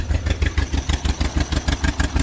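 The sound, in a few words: John Deere MV tractor engine running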